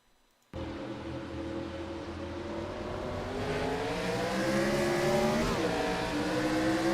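Race car engine in a Cup Series racing video game at Rockingham, with the No. 81 car spinning its tires. A loud, steady engine roar starts abruptly and climbs in pitch, revving up throughout with no talk.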